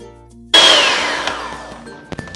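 An electric hand mixer switches on abruptly and whirs steadily while whisking eggs for an omelette, a bright close whine that gradually eases over a couple of seconds with a few small clicks near the end.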